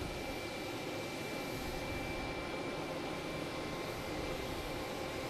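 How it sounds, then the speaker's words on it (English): A Delta Embraer E175 jet takes off at Logan Airport, heard as a steady, broad roar of engine noise that stays even and fairly distant throughout. "Delta taking off, heading to Charlotte. Embraer E175."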